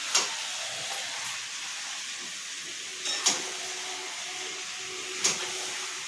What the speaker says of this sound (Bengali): এবার তেল দিয়ে দিচ্ছে, মা মাংসটা কষছে।